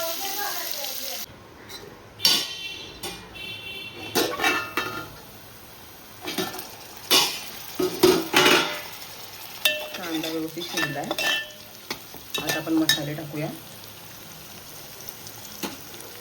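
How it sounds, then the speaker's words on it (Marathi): Onion frying with ginger and garlic in hot oil in a pan on a low flame for chicken biryani, heard as intermittent stirring scrapes and soft sizzling, with clattering utensil hits, under a voice talking. "हा कांदा टाकूया आता मंदाचेवर शिजवून देऊया गॅसची फ्लेम कमी करू"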